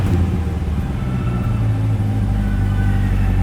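A Chevrolet Corvette C8 V8 runs loud and close behind the car, a deep rumbling exhaust note with a steady throaty idle and a slight surge of revs throughout.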